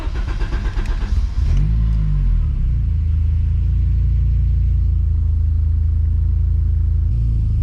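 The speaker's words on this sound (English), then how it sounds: "Gonna start the car." After a brief clatter of handling noise, the S2 car's engine cranks and catches, then settles into a loud, steady idle that rumbles close by until the end, with a small change in the note near the end.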